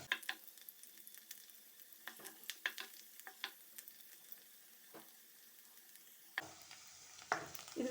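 Garlic frying in a pan for egg mushroom fried rice, a soft steady sizzle broken by scattered clicks and scrapes of stirring, growing louder and brighter near the end.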